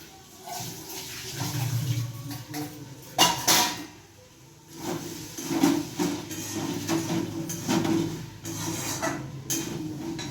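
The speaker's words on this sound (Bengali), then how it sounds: "আমি এটাকে মগের জল দিয়ে ভালো করে ধুয়ে নেব" Water from a mug splashes and pours in bursts with light clinking as lentils are rinsed in a bowl, close up with no talking.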